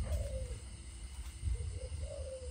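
A Malaysian spotted dove coos nearby in repeated soft, low calls with short gaps between phrases, over a steady background hum.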